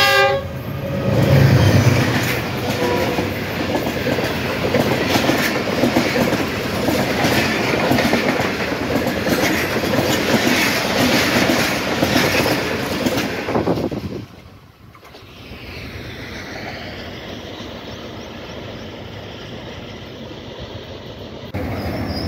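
A passenger train rumbles loudly past through Mankiala Railway Station, Pakistan, with steady clattering wheels for about fourteen seconds, then drops away to a quieter hum as it recedes.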